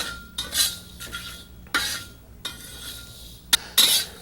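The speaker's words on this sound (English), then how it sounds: "Now we're going to ever so gently dry roast these spices until they go a slightly darker colour" Spices being gently dry roasted in a wok, heard as intermittent scraping and clinking of a utensil against the pan in short bursts, fairly quiet with no talking.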